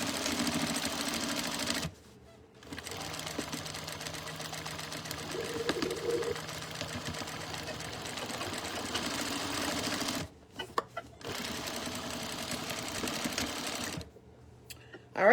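A sewing machine stitches a fabric face mask in long steady runs, stopping briefly twice before starting again, recorded close up in a quiet room.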